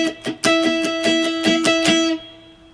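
Electric guitar chord with muted strings, strummed gently with a pick in a steady run of about eight crisp strokes over a ringing two-note tone, then stopping abruptly.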